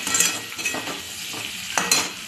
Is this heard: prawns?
yes